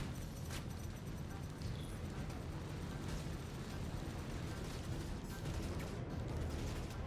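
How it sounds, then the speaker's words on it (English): Ballistic guns fire in a Star Citizen space dogfight, a dense, continuous roar of shots and explosions at steady loudness throughout, with no pauses. "Straight away the ballistic guns are coming in once again."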